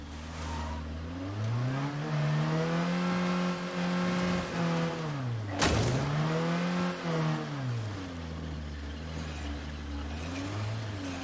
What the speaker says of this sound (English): Sounds like the engine isn't too happy with my rough treatment of the vehicle.